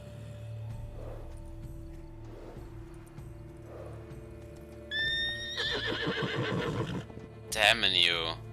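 Roach, Geralt's horse in The Witcher 3, lets out two loud whinnies near the end after quieter snorts and hoof sounds, close and clear over soft ambience.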